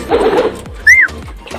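Pigeons being fed with grain give a single short, clear call after a burst of rustling and pecking, with a few soft thuds close by.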